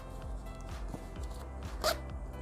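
Zipper on tactical cargo pants, a faint quick zip with a brighter rasp near the end, set against low background rumble and soft handling noise.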